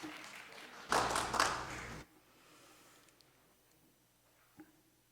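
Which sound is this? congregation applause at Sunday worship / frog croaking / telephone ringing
congregation applause at Sunday worship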